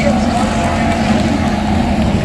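Race car engines at speed during the Cleetus Indy 800, a loud, steady drone heard close with wind buffeting, and a voice talking underneath.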